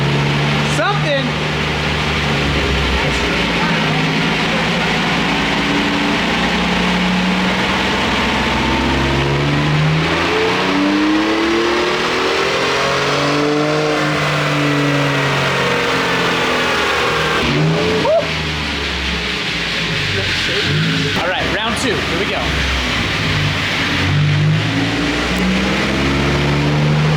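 Ford Raptor pickup truck engine fires up and revs repeatedly in rising and falling sweeps, loud and close, with people talking over it.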